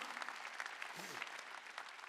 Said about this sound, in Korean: 박수 치라 이게야